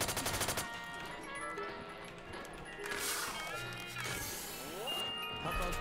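A rapid burst of Tommy gun fire from GTA San Andreas in a zombies mode opens loud and close, then gives way to busy game effects and ringing tones.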